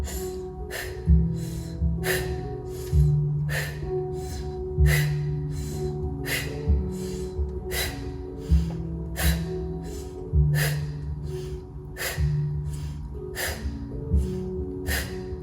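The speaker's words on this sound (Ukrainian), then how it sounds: "Якщо важко дихати носом, вдихаємо трохи ротом, наче через зуби вдихаємо воздух." Repeated sharp inhalations through the mouth and teeth during a guided stress-relief breathing exercise, about eight evenly spaced breaths over the stretch with a low hum underneath, close and clear.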